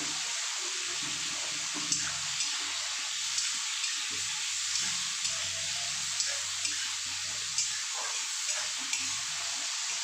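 Crushed garlic hisses in hot oil in a home kitchen pan, a steady close sizzle with faint occasional ticks of stirring, no talk.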